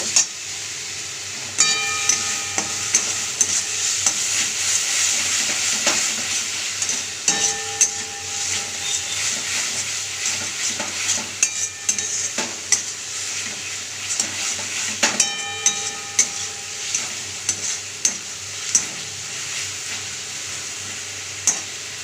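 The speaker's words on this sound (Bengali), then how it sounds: "এগুলোকে ভালো করে ভেজে নেব।" Spice paste with salt and chilli powder frying in a pan for a mustard fish curry, a steady soft sizzle punctuated by repeated clinks and scrapes of a spoon stirring against the metal pan.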